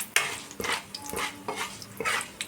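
Achari spice tempering in hot oil in a pan, with bursts of sizzling and scraping as a spatula stirs it, several quick strokes in irregular rhythm, close and fairly loud; no voices.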